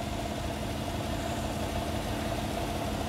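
A car engine idles with its air-conditioning compressor clutch failing to engage, a steady loud low rumble and vibration holding evenly for about three seconds, close up and with no talk.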